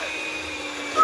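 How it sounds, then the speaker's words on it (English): An electric hand mixer whirs steadily at close range while Halloween cookie dough is mixed in a bowl, a continuous motor drone with a slight rise at the end. "Use a hand mixer. Now we gotta use it."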